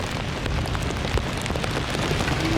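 Heavy rain pours steadily on the mountain trek route to Kedarnath, a dense, continuous hiss of drops hitting the ground and surfaces, close and unbroken throughout with no voices.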